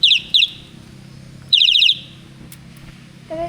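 Birds chirp outdoors in quick bright runs of sharp repeated notes, two short bursts and then a longer trill, over a low steady hum, ending with a softer call.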